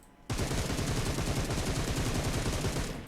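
Sustained automatic gunfire in PUBG Mobile, a single loud, close, rapid burst that starts abruptly and keeps up a tight rhythmic rattle for about three seconds before cutting off.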